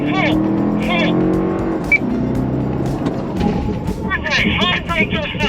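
Lexus car at full throttle on a race track, engine revving loudly through rising gear-like pitch sweeps close by, with instructions shouted over it.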